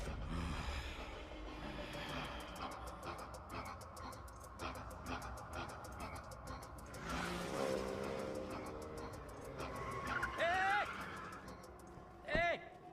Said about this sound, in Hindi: चलो, गाड़ी निकल गई है।